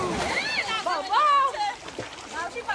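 Family members splash about in cold water on a farmhouse outing, with lively shouting voices over the splashes.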